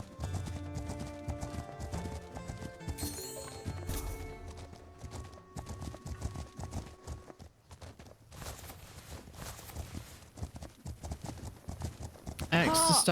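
Steady horse hooves clip-clopping at a walking pace in a video game, The Legend of Khiimori, under a bed of music and game sounds, with a person talking over them.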